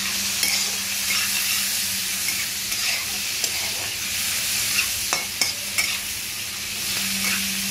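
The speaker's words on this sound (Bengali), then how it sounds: "চিংড়ি মাছটাকে ভালোভাবে ভেজে নেবো আগে।" Shrimp sizzles and fries with a little turmeric in a pan, a steady close crackle with occasional stirring scrapes and clinks, and no talking.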